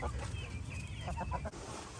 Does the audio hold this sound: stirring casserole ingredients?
no